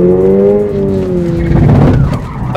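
A car engine revs with a falling pitch as the car is driven through a first-attempt side turn, then loud tire skid noise takes over. The sound is close and continuous.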